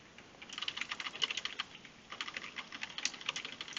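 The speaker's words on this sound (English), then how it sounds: "Spam spacebar and 1." Rapid, light keystrokes as the spacebar and 1 key are pressed repeatedly on a computer keyboard during a game of Old School RuneScape, a quiet steady clatter with a short pause midway.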